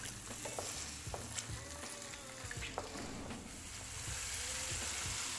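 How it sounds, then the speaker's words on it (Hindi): Yogurt sizzles gently as it is lightly fried in spice masala for a chicken kofta curry, with soft crackles and a few scraping stir strokes, close and fairly quiet. "दही को हल्का सा भूनना है।"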